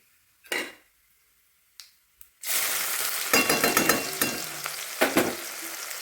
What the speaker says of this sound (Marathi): कांदा लालसर होस्तोपर्यंत भाजायचा आहे